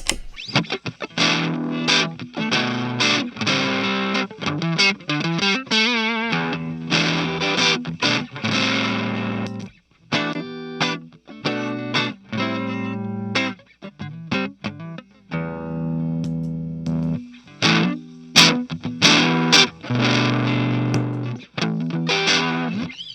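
Electric guitar played through the second stage of an overdrive pedal, squashed compressed distorted chords and single notes ringing in phrases with short pauses between, loud and close with no talking.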